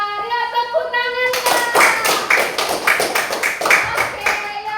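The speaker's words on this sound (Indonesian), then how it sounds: "Ya, tepuk tangan." Children in a classroom clapping together, a burst of quick, lively hand claps that begins after a moment of children's voices and keeps going steadily to the end, close and fairly loud.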